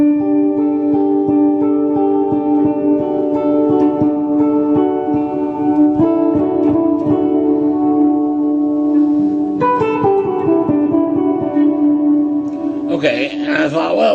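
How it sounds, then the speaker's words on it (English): Electric guitar played through a single reverb from a TC Electronic Plethora X5 pedal: sustained notes and chords ring out with a smooth, lingering wash, steady and close, shifting to a brighter strummed burst near the end. "And then I tried it with just one reverb"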